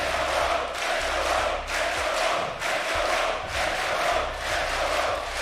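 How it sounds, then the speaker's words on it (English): An esports arena crowd at the Six Major Berlin final cheers loudly, a dense roar of voices swelling in rhythmic chanting waves, steady and unbroken across the whole stretch. "I really cannot overstate the volume of the crowd at the minute here in Berlin"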